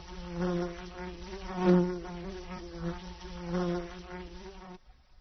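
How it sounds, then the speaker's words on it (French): A wasp drawn to sweet sap on a tree trunk flies in close, its steady droning buzz swelling and fading as it moves, then cutting off abruptly near the end. "Une guêpe à proximité sent une odeur sucrée et arrive en volant."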